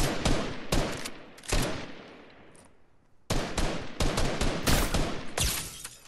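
Bursts of rapid gunfire crack in a Fortnite match, loud close volleys in several clusters with a short lull in the middle, no talking heard.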